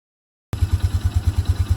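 A firewood log splitter powered by a Honda engine idles nearby, its low rhythmic chugging pulses steady and fairly loud after a moment of silence, with no talk.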